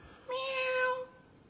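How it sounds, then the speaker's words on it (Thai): A cat gives a single clear, drawn-out meow lasting under a second, moderately close against a quiet background. "แมวดิ"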